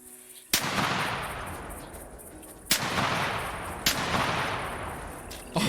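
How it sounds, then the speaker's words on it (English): Three loud, sharp blasts from a 12 gauge semi-automatic shotgun in the hunting game Call of the Wild, spaced a couple of seconds apart, each ringing into a long rumbling outdoor decay, with a fourth shot beginning at the very end. "So I'm going to try and take a shot on this medium-sized boar coming in behind us as well."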